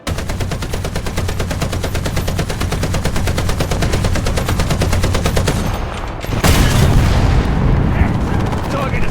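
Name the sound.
video game weapon fire and hit sound effects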